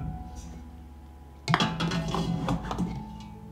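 Glass jars being set one by one into a cloth-lined pot for pasterization, a sudden clatter followed by repeated muffled knocks and clinks of glass, close by.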